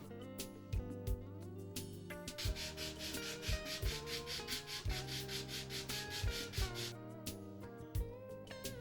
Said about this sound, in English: Trim and sand the leading and trailing edge pieces as shown.